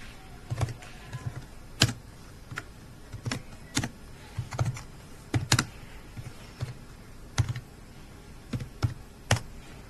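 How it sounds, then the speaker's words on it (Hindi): Clicky keystrokes on a computer keyboard as a product description and price are typed, coming in uneven bursts of sharp, close taps with short pauses and no talking. "अब डिस्क्रिप्शन के एंड में हम लिखेंगे प्राइस"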